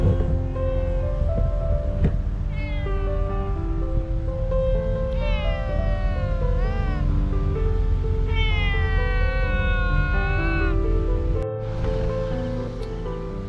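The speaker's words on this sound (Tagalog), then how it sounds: "Meow. Meow. Meow. Pusa." A cat meows repeatedly at a nighttime beach campsite in Agno, Pangasinan, with drawn-out rising and falling cries over a loud steady wash of surf and rustling.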